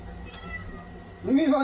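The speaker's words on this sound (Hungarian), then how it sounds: "Cica rám szólt." A house cat gives a single rising, close meow near the end, after a stretch of quiet room sound with a faint hum.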